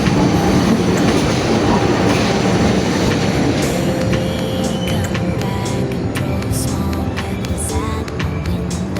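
A loud, continuous rumble of the Taksaka executive long-distance train moving through a station in Yogyakarta, Indonesia, with rolling wheel noise, metallic squeals and clicks, and faint voices in the background.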